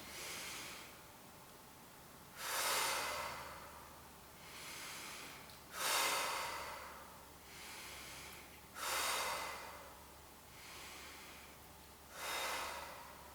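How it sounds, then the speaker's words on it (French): Deep chest breaths during postpartum exercises, four slow, loud inhales spaced evenly and close to the microphone, with quieter exhales between them and no talk. "je fais quelques respirations très profondes et toujours thoraciques"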